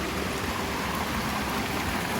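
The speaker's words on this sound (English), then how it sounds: "the creek runs all the way through the property" A mountain creek flows through a homestead property in spring, a steady, dense rushing of water that stays loud and constant throughout without any voices.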